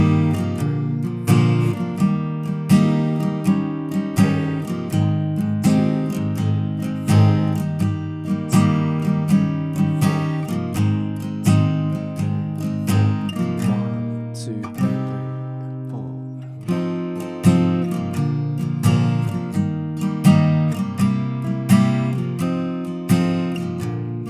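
Acoustic guitar strumming and fingerpicking through the chords of a song, a steady rhythmic accompaniment with a short pause near the middle, close and alone with no voice.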